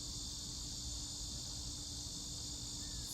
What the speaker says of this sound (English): got some loud insects here